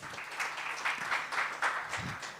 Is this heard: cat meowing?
no